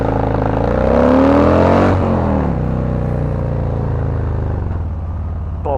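A Harley-Davidson Fat Boy 114 motorcycle pulls away, its big 114 V-twin rising in pitch through a loud, close rev before settling into a steady throbbing rumble as it accelerates off.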